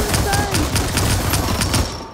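Guns fire in Skyfront VR as a fast, even string of loud shots rattles off like an automatic weapon, with people talking over the gunfire.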